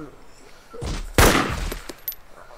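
Video game gunfire: a few loud, sharp bursts that swell and fade over a couple of seconds, with faint background game noise around them.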